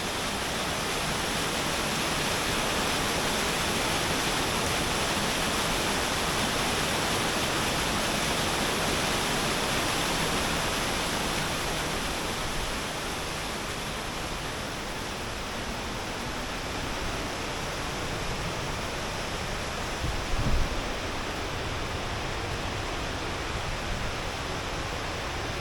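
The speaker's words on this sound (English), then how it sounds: "Okay, I climbed up top and now I'm above that waterfall" A waterfall at Rock Island State Park, Tennessee, in winter roars as a loud, steady, broadband rush throughout, with a brief bump near the end.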